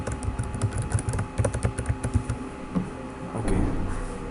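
Someone types a username on a computer keyboard in quick bursts of close, crisp key clicks, tapering to a few scattered presses.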